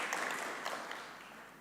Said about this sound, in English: Let's give all presenters a big round of applause.